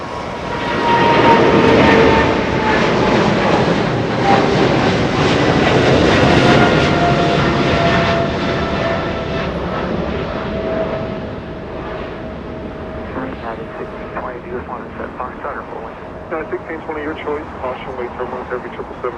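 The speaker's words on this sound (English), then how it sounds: "enjoy this close-up departure, 777 lifting off right in front of us" A Boeing 777 departs close by at Los Angeles International Airport, a loud, broad jet engine roar that swells early, holds steady, then slowly thins and fades as the heavy airliner climbs away.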